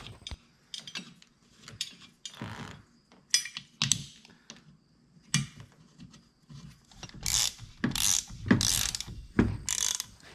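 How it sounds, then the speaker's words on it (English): Ratchet snugging down the two supplied bolts on an airbag bracket on a 2021 Ford F-350 Tremor, irregular bursts of quick metallic clicking with pauses between strokes, fairly close and moderately quiet, with no talk. "Then install the 2 supplied bolts and snug those down."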